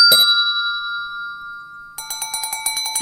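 Chime options on a classroom screen timer, with a bright bell-like ding at the start that rings on as a long, slowly fading tone, then a rapid run of repeated short chime strikes.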